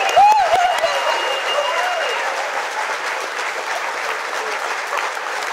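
A Republican Lincoln Days crowd in Camden County gives loud, steady applause and cheering, opening with a sharp whistle and continuing as a dense wash of clapping.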